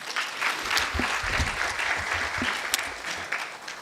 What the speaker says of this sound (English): Please give the head of SIU another round of applause